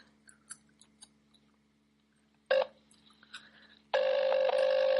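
Faint clicks lead into a short burst of phone ringback tone while placing a call, a pause, then a second steady electronic ring tone that keeps going.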